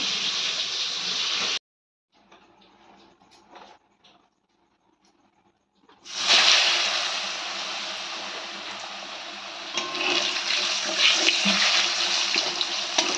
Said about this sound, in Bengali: মিক্সারের কোটাতে নিয়ে মিক্স করে নিই